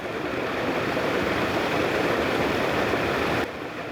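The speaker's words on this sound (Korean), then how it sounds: "졸졸 흐르던 골짜기의 물은 이미 흙탕물이 되어 쏟아져 내리는 생활훈련장." Loud, steady rush of a muddy mountain valley stream swollen by heavy rain pouring down, a broad continuous roar of water close by.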